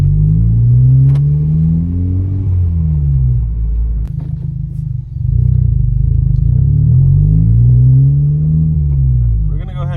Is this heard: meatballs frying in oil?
no